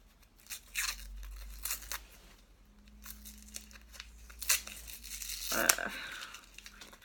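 Paper wrapping on a parcel being torn and crumpled open in several bursts of ripping and crinkling, close up, with a person talking in between.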